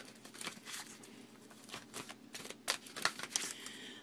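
Cards being shuffled close up for a reading, a run of quick riffling bursts and soft papery slaps, fairly quiet with no voices.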